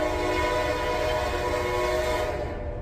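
A CSX intermodal freight train passes close by on a westbound track near North Baltimore, Ohio, its horn blaring a loud sustained chord over the steady roar and rumble of the cars.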